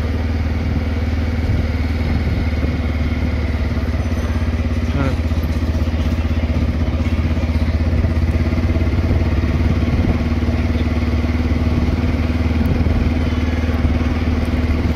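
A motorcycle runs steadily during a ride, its loud, continuous engine drone and clatter filling the whole stretch, with occasional voices faintly under the noise.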